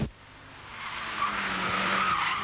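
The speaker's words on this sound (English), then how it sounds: "Here we are now in the Evolution 6 Mitsubishi, four-wheel drive, turbocharged, over 300 horsepower, and this thing feels quick." A turbocharged four-wheel-drive Mitsubishi Lancer Evolution 6 with over 300 horsepower cornering hard. A loud tire squeal rises and holds over the engine noise, close and continuous, with no talking.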